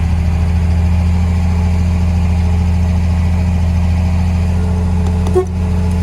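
A tuned 1972 Chevrolet Nova engine idles steadily and evenly up close, a low, smooth throb with one brief small blip near the end.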